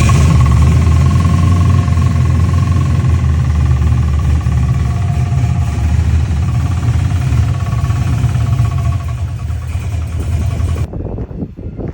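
An LS V8 swapped into an HZ Holden ute runs at a steady, close, throbbing idle for about eleven seconds, then cuts out abruptly.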